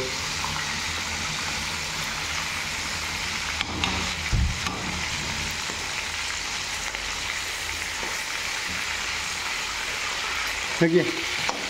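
Fish half-fries in a pan before going into a fish and tomato curry, with a continuous hissing sizzle throughout, a couple of brief clattering stirs, and no talking.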